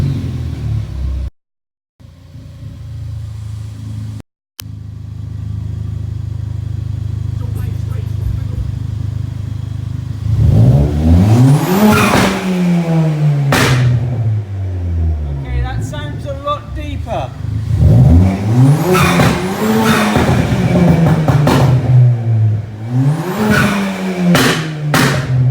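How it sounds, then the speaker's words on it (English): Ford Focus ST180 fitted with an Airtec hard-pipe turbo elbow on a 350 bhp build cranks, catches and idles. It then revs hard in three loud rising and falling bursts, up close with no talk. "Now I'm going to start it up and see, well, if there's any sound difference."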